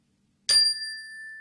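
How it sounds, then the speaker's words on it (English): A single bell struck to close a mindfulness relaxation exercise rings out after a moment of silence, its bright, clear tones sustaining and slowly fading in a quiet room. "So when you hear the bell, you're going to open your eyes again."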